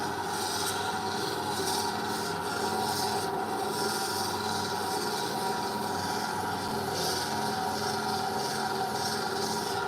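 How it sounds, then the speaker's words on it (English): Rose quartz ground on a 1000 grit flat lap gives a continuous, steady abrasive rasping and whirring hum that holds even and loud throughout, with no voices. "So I am polishing rose quartz on a flat lap."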